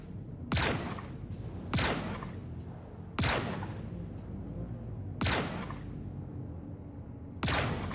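Gunfire in the video game Star Citizen: five heavy, booming blasts ring out at irregular intervals, each with a long rumbling tail over a low steady background, and no one speaks.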